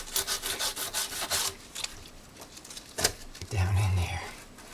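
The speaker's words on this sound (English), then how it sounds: "I'm folding back the sandpaper because I want to get right into that groove, right down in there." Folded sandpaper rubs into a groove in a Yamaha FZ600 motorcycle fairing, a close, rasping back-and-forth scrub in quick strokes with a few pauses, while someone speaks briefly during the work.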